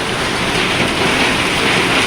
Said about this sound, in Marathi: हा गारा जास्त पडायला लागला आता